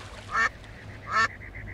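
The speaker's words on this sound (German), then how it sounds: "Die Enten scheinen auf die Tröte ah, zu reagieren." Ducks quack twice in the video game Geheimakte 2, two short clear calls about a second apart over a faint, steady in-game ambience.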